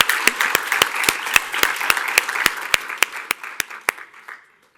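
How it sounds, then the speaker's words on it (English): A small audience claps for the county council vice president at a Black History Month celebration. The applause is brisk and crisp, with distinct individual claps, and it thins out and ends after about four seconds. "give him a round of applause"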